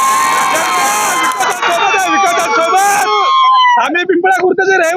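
A crowd celebrates an election victory in Maharashtra with loud, sustained cheering and shouting, as a strong voice rings out over the crowd almost the whole time.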